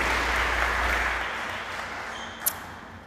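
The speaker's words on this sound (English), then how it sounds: "One last round of applause for our Fighting Heart Award" Applause from a school sports awards ceremony audience honouring Fighting Heart Award winners, a steady wash of clapping that fades gradually, with a brief sharp ping near the end.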